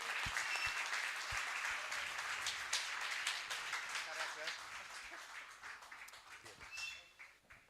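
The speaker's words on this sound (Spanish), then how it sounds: "lo recibimos con un aplauso" A church congregation claps in sustained, even applause for an arriving speaker, filling the room at moderate volume before gradually thinning out toward the end.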